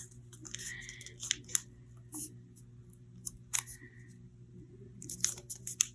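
Paper being folded along a crease for an origami fish, with soft crinkling rustles and a few sharp crackles scattered through a quiet room, close and fairly faint.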